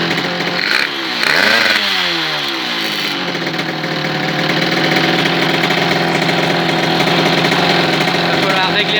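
A tuned MBK 51 moped engine with a stage 6 hybrid setup idles with a steady buzzing two-stroke putter, loud and close, after a brief rev near the start; someone talks over it.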